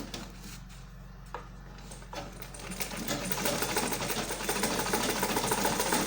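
A sewing machine stitches dress fabric for an asymmetric cowl-neck dress with a half-inch seam allowance. A few quiet handling sounds come first, then the machine's steady, fast mechanical whir runs continuously up close.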